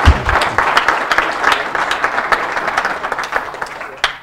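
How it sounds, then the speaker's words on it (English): Audience applause after a talk at a tech meetup, a steady patter of clapping lasting a few seconds with some voices mixed in. "another round of applause"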